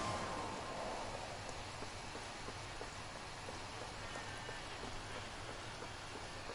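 Steady rain falls in the Genshin Impact video game, a dense, even hiss of drops hitting surfaces that holds unchanged throughout with no talk over it.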